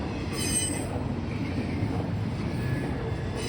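A Norfolk Southern freight train on a busy mainline rolls past with a dead-in-tow green heritage locomotive, giving a steady, close rumble of railcars with high wheel squeals throughout.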